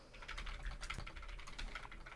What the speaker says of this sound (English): And I just start typing?